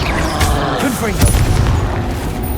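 A Confringo fire-spell blast in the wizarding game Hogwarts Legacy, a loud booming burst amid ongoing combat noise, with a voice shouting during the fight.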